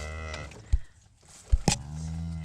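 Calf mooing on a cattle farm, a few short close lowing calls with harmonic tone, separated by thumps and brief rustling, no voices.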